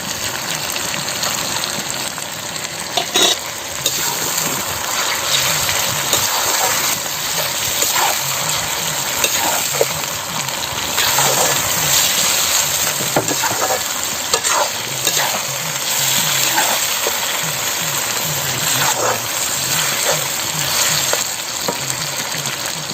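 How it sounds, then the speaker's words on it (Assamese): Pieces of pork fry in a pan for a curry while being stirred, giving a loud, continuous sizzle with repeated scraping and clinks of the spoon. No one talks over it. "আপোনালোকে 30 মিনিটমান সময় ভাজি ল'ব যেতিয়ালৈকে মাংসখিনি কালাৰ এটা চেঞ্জ হৈ নাযায়"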